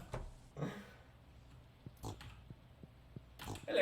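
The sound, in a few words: pig oinking in the video game Stardew Valley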